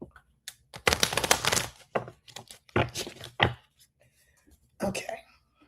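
Several bursts of riffling and snapping cards, a long shuffle followed by shorter flicks and taps, close and fairly crisp.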